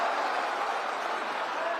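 A crowd at an election rally applauds a candidate, dense continuous clapping heard from a distance, steady and even throughout with no pauses.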